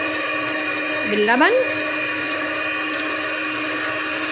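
An electric hand mixer whirs steadily through cake batter for a mango cake made with milk and oil. The motor drones close and continuously, and someone speaks briefly over it.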